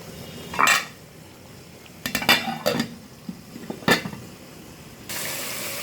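A metal lid goes onto a cooking pot on a stove turned down to low heat: a few sharp clinks and rattles separated by quiet, close by with no voices.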